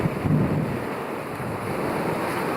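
Steady wind roars across the microphone aboard a sailboat running under full sail on a breezy day, a broad continuous rushing with slight swells, loud and close, no talking.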